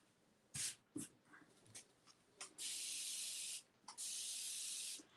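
Bursts of spray from a bottle of tap water misting onto a bath mat: a few short hisses, then two long, steady sprays, close and alone.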